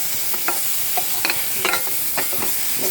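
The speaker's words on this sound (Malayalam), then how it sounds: "ഇതെല്ലാം കൂടെ നന്നായിട്ടൊന്ന് മിക്സാക്കാം" Chilli powder, Kashmiri chilli and coriander powder are stirred together in a hot pan, giving a soft continuous sizzle broken by several close, sharp scraping strokes at an uneven rhythm.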